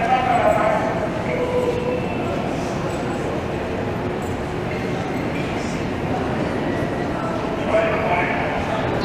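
A Montreal metro train rumbles through the subway, a steady loud roar of wheels and motors with faint squeals rising at times. Speech carries on over the noise.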